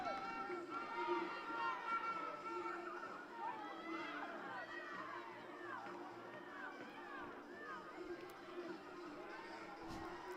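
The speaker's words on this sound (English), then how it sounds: "that smallish crowd from Northumbria are now making themselves heard" Northumbria supporters in a smallish crowd cheer and chant at a women's football championship final, a steady roar of voices filling the stadium with sustained, distant crowd noise throughout.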